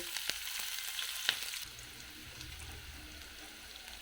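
Onion frying in a pan makes a quiet, soft sizzle, with a few sharp clicks of a spoon against the pan early on before the hiss settles into a gentle, steady crackle.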